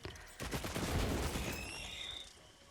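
Turrets fire in the video game Risk of Rain 2, a burst of rapid, overlapping shots that lasts about two seconds and then fades, with faint high synthetic tones.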